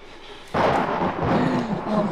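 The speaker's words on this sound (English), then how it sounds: "that lightning freaking scared the crap out of me" A sudden loud thunderclap from lightning in the horror video game Outlast, breaking over quiet ambience with a heavy rumbling roar that sustains to the end.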